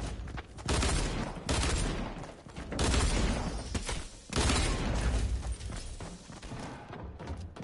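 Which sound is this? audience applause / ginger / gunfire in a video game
gunfire in a video game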